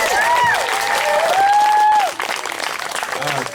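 An audience at a bar mitzvah party breaks into applause with some cheering, a full loud burst that drops off after about two seconds into lighter clapping and voices.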